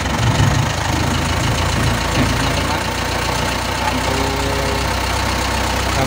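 Car engine running at idle after being started, a steady low rumble with a faint knocking texture that continues throughout while a voice talks over it.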